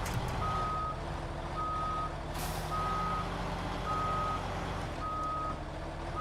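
A heavy truck reversing to park in SnowRunner sounds regular beeping alarms at a slow even rhythm over a low engine rumble, with a brief hiss of air partway through.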